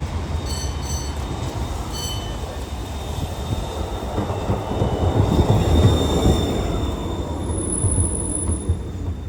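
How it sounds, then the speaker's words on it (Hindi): A tram rolls past on a street in Romania, a close, steady rumble of wheels on rails that swells at its peak, with a thin high squeal near the end. "ये ट्रम के खासियत ही से जल्दी जल्दी आवे छे और जल्दी जल्दी निकली छे"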